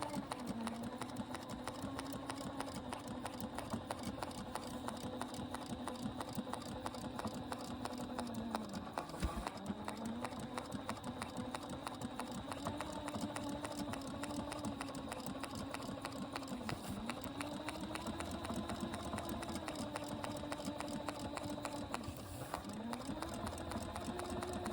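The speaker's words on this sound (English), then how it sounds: "I'm just gonna sew with my 4 stitch and just go along the edge" A serger sewing four-thread stitches along the edge of a seat cushion for an RV-10 or two-place RV aircraft: a fast, faint, steady mechanical whir with a rapid needle patter and brief pauses.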